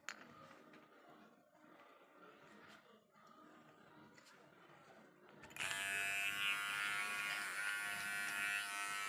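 A Trimar electric beard trimmer switches on after some quiet handling and then buzzes steadily at close range, loud and constant until the end.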